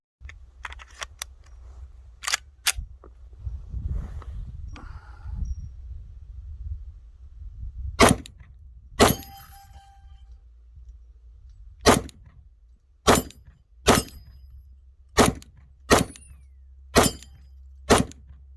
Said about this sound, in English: I'm firing at steel, and it's right there, so you should be able to hear it if I hit anything